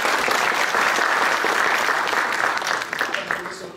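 Audience applause welcoming a professor at a university laboratory opening in Suwałki, Poland; dense, steady clapping from a large crowd, loud throughout and thinning slightly toward the end.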